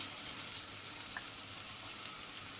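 Chicken wings coated in their sauce sizzle and fry steadily in a pot, a continuous close crackle with no talk over it.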